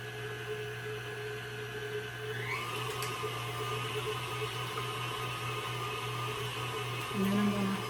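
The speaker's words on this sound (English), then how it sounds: "I like the sound of the mixer" An electric mixer whirs steadily through cake batter with eggs, a constant motor hum and grinding tone that shifts pitch a little partway through as the speed changes, with a brief voice near the end.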